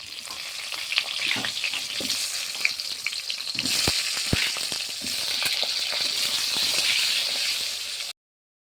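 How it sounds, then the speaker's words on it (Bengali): Potato pieces fry in oil with salt and turmeric in a kadai, giving a continuous close sizzle broken by occasional stirring clicks and scrapes of the spatula. "হলুদ দিয়ে আলুটা ভেজে নিচ্ছি"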